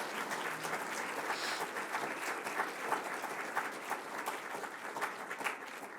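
Applause from the audience fills the hall at an awards ceremony for young Slovenian computing competitors, a steady, even patter of many hands clapping at moderate distance.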